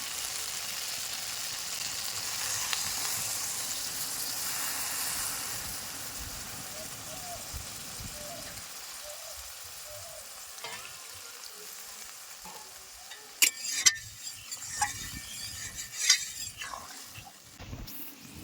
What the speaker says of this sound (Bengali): এবার আমি এই তরকারিতে একটুখানি ঝোল দিয়ে দেব